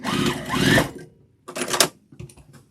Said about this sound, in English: Just line those up, put it down, and just sew right off. And back stitch.